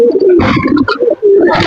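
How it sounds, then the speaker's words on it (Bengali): Pigeons in a loft coo loudly and close by, with repeated throaty calls over rustling and fluttering movement from the birds, and no talk. "আমাদের কবুতরগুলো এখানে সবাই ছুটাছুটি করছে"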